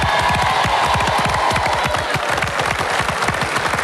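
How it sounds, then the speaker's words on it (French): TV game show studio audience claps for a team, brisk rhythmic applause with some cheering, steady and close throughout. "Quelques applaudissements pour l'équipe bleue."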